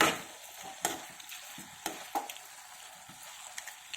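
Ridge gourd with salt fries in a pan while a spoon stirs it, soft sizzling beneath a series of scattered scrapes and knocks against the pan, fairly quiet and close.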